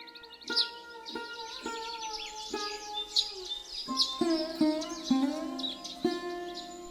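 Birds call on a morning in the countryside, with a run of clear, fairly close chirps and whistles repeating in quick succession and no talk.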